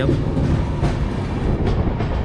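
Awadh Express train rolling past on the line toward Jaipur, a loud continuous rumble with rhythmic wheel clatter close by, and a brief voice heard over it.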